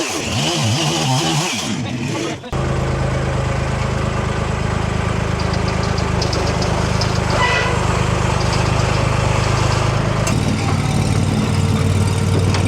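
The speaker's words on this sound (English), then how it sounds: "He's running the tractor today." A tractor engine runs continuously and loudly up close while branches are being hauled, with a steady throbbing drone and a brief dip before settling into a constant roar.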